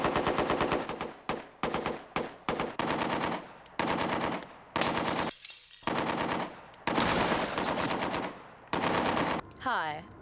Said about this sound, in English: With over 50 million manufactured in 10 countries, the AK-47 is the most popular assault rifle in the world.